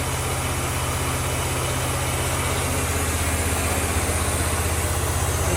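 Engine of a SoftWash trolley pressure washer running at a steady, loud, close idle, a continuous low rhythmic chug with no talk over it.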